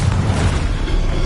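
A Confringo explosive spell blast in a wizard video game: a loud, dense, rumbling boom that fills the whole moment.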